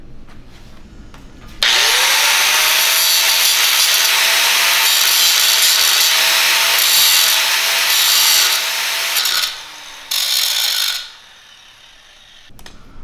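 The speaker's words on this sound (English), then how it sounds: "So all we're going to do is grind this real thin right here." An angle grinder spins up with a rising whine and then grinds loudly and steadily on a weld root, thinning it for a restart. It runs for about eight seconds, dips briefly, gives a short final burst and then stops.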